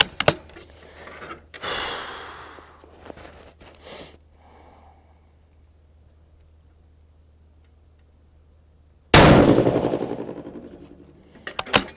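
A rifle with a 1.5 lb trigger fired over a chronograph: one loud, close shot late in the clip with a ringing decay, after earlier handling clicks and rustles and a long quiet stretch.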